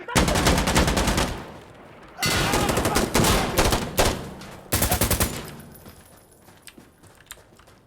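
Loud, rapid bursts of AK rifle fire in 7.62 from the shooter game Insurgency Sandstorm, several long automatic volleys separated by brief gaps, ending in quieter scattered shots and distant rattle.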